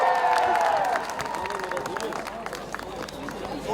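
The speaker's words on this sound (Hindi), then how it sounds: "जोरदार तालियां" Applause rising from an audience at a film song launch event in Jaisalmer, steady clapping and crowd murmur over a fading musical tone.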